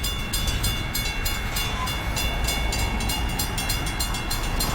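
An empty BNSF coal train of around a hundred cars rolls past close by, a loud continuous rumble with rhythmic clickety-clack of wheels over rail joints and no talk.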